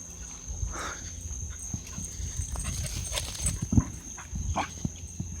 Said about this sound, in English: And she's barking at the fireworks.